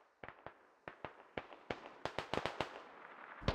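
Video game battle gunfire in a string of sharp, separate shots, sparse at first and then coming faster in a cluster, moderately close with no talking.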